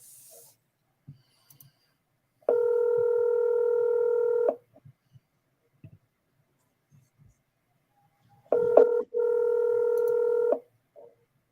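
A telephone ringing twice, each long steady electronic ring lasting about two seconds with quiet gaps in between, clear and close.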